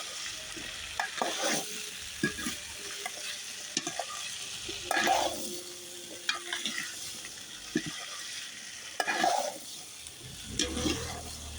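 Potatoes frying with panch phoron in hot oil: a steady sizzle broken by repeated scraping stir strokes at an irregular pace, fairly close, with no one speaking.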